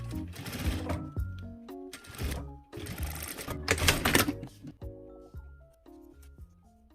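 Sewing machine stitching a zipper onto a pocket for a zip-up jacket, with several bursts of close, loud mechanical stitching separated by short pauses and quieter handling sounds.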